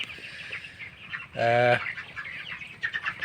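Broiler chickens in a warm poultry house give soft scattered chirps and clucks, and one louder harsh call stands out briefly in the middle.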